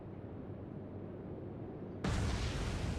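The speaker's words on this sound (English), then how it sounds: "Second torpedo hit for the destroyer." A torpedo strikes a destroyer in the naval combat video game Atlantic Fleet: a sudden loud booming explosion cuts in partway through, over a low rumbling background, and sustains as a heavy roar.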